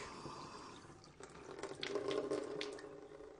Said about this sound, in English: After that, I would turn the water on.